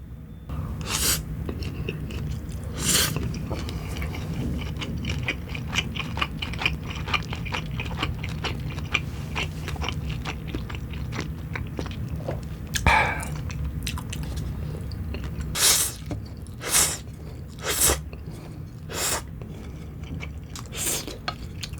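Close, wet chewing and slurping of jjapaghetti noodles with pork during a mukbang meal, with occasional clinks of chopsticks against a dish and louder bites toward the end; no talk.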